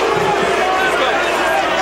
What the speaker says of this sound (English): Crowd boos.